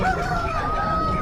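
A rooster crows once at a Friday hen market in Kundarapalli, Krishnagiri, a near, drawn-out call over a low murmur of the crowd.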